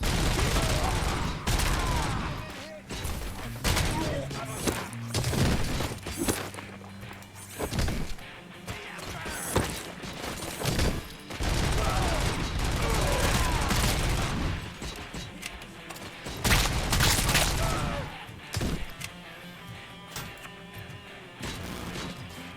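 Gunfire in the Robocop video game, repeated loud bursts of shots and impacts crashing in clusters across the whole stretch, with brief gaps and game noise between volleys.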